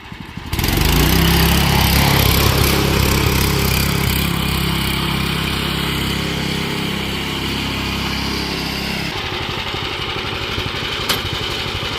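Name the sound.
lawn tractor go-kart engine revving during a burnout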